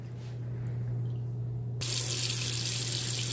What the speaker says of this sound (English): So we're gonna drain this water.